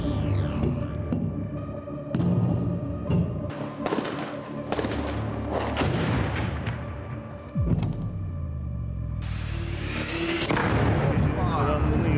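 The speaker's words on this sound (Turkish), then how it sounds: "Karanlığını yırtan gök gürültüsü şeklinde silah sesleri duyuyorsunuz." Gunfire in the dark, heavy booming thuds and rumbles like thunder that recur over several seconds, mixed with droning tones and voices.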